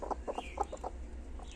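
Hens that seem agitated after their eggs were taken give a quick run of soft, low clucks close by, with steady background hum and no talk.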